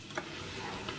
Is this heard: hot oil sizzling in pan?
yes